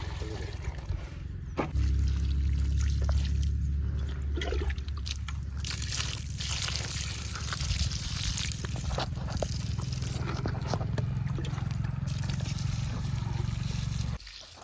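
Water runs steadily into a bucket on a farm in a continuous, fairly loud stream over a low rumbling background, then cuts off near the end.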